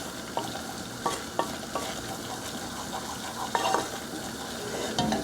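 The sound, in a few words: butter and flour roux cooking in a pan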